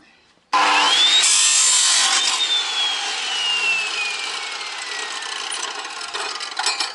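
A circular saw with a worn, dulled blade cuts through wood. It starts abruptly with a loud, sustained whine and rasp that slowly falls in pitch as the cut goes on, with no talking.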